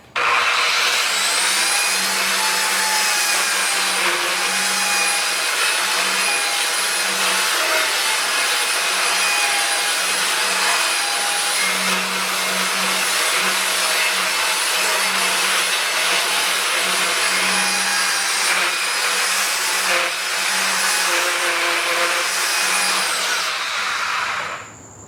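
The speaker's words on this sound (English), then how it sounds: "So I'm using the belt sander here to create some little bit of contour and smooth" A belt sander runs continuously across the metal body of a 1937 Studebaker, smoothing and contouring a high spot with a steady, loud abrasive whir and scraping rasp that holds for the full stretch before stopping.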